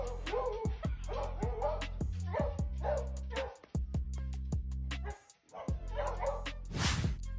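A dog barks repeatedly in sharp, close bursts with brief pauses, mixed with a few higher yips and whimpers over a low steady background.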